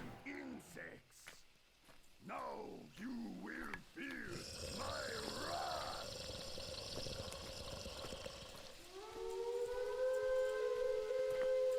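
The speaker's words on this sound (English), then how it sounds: "apparently there's an air raid siren in this song" An air raid siren inside a song plays as in-game music, with a sustained wailing tone rising in and holding loud near the end after busier musical sounds.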